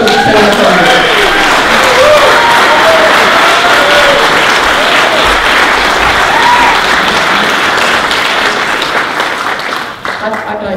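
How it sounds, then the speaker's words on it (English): A crowd gives a loud, sustained round of applause for a centenarian woman, the clapping thick and continuous for several seconds, with voices and cheers mixed in before it thins toward the end. "Everybody, I'd like you to give a really big round of applause."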